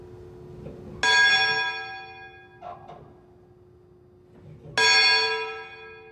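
A large bell struck twice inside a former river museum hall with full-size boats in Memphis, each stroke a loud clang followed by a long, slowly fading ring.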